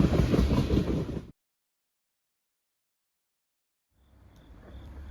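Freight train hauling cars of trash, a loud rumble of rolling cars that cuts off abruptly, then after a silent gap a fainter rumble returns.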